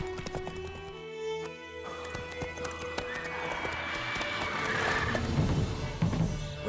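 Roach the horse galloping in The Witcher 3, rapid rhythmic hoofbeats with a whinny, building louder over ambient game music and effects, with no talking.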